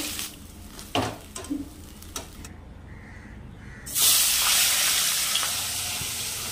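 Steady sizzle of fish frying in hot oil, with a few clattering handling sounds early on, then a louder, brighter sizzle swelling up and holding to the end.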